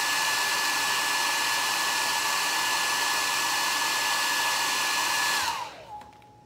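A hair dryer blows steadily and close while drying wet paint on a decorative plaster cup, a loud, even whine that winds down and stops near the end.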